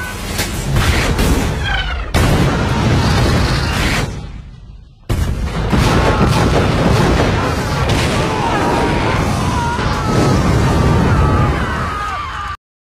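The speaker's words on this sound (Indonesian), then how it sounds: "para tentara Jepang mengeluarkan artileri raksasanya untuk menghabisi para marinir dari kompi ke-8" Heavy artillery barrage in a war film scene, Japanese guns shelling a company of Marines: loud, continuous booming blasts and rumbling explosions filling the whole stretch, with a brief drop in the middle before the bombardment resumes.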